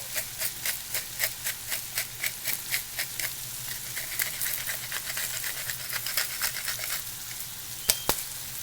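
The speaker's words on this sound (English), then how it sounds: "So you saute this for about a minute, maybe two, and it'll cook the alcohol out." Sauteing in a pan with alcohol cooking off during smoked salmon pasta prep: steady close sizzle with regular rhythmic stirring or scraping clicks through most of it, then a couple of sharper knocks near the end.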